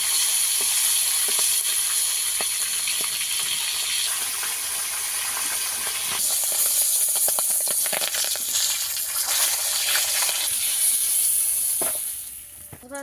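Pangas fish heads fry in hot oil, giving a steady, close hiss and sizzle with occasional crackles and stirring clatter. No one speaks.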